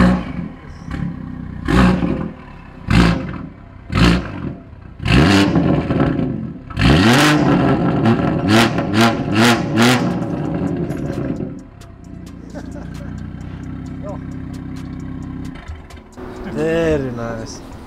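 Loud, raw exhaust barks from a straight-piped car revving repeatedly in short blips, then a sustained rev and rough idle, with people talking briefly.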